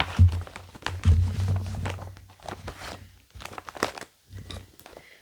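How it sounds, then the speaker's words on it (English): A handmade plastic bag being handled close up gives intermittent crinkling and rustling bursts with a few soft thumps between quiet gaps. "I'm sorry for any noises of crinkling."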